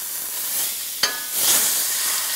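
A beef pot roast sears and browns in a hot pan, giving a soft, steady sizzle with a single sharp knock near the middle and a brief swell of hiss afterwards.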